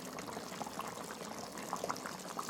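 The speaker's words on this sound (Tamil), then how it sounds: "மண்சட்டியில் கொதிச்சுட்டே இருக்கும்" Sardine fish curry bubbling steadily in a clay pot after the gas flame is turned off, a continuous soft simmering with small pops and gurgles, close and fairly quiet, with no talking.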